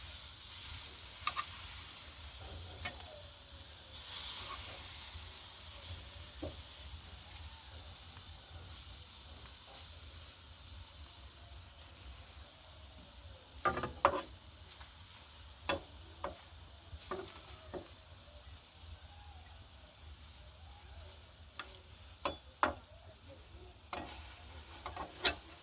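Chicken momos fry in a pan after being flipped, giving a soft, steady sizzle and hiss close by, with scattered small pops and ticks of spattering oil growing more frequent in the second half.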